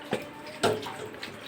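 Soaked lentils being rinsed in water, with two short splashing sloshes standing out over a faint running-water wash, close by and without voices.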